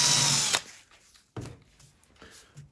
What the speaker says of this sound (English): So I'm drilling my hole.